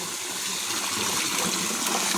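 Cold water falling in a stream at Haputale in Sri Lanka, a steady broadband rushing and gushing that is continuous, close and fairly loud, with no talking.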